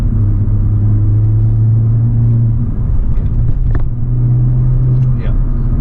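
Skoda Octavia RS on a Stage 3 TVS gearbox map accelerating hard in second gear: a loud, steady engine drone with a deep low hum fills the cabin throughout, with some voice over it.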